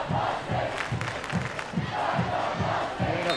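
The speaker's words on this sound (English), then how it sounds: "Crowd still going strong." A high school football crowd in the stands roars and chants in a rhythmic, pulsing cheer, loud and sustained across the whole stretch.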